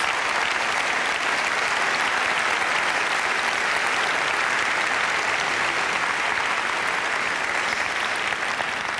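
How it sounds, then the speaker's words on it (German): An audience at the German Film Award ceremony applauds in a dense, even wash of clapping that stays loud and steady throughout, with no voices rising above it. "Das ist natürlich unser, ja genau, Applaus."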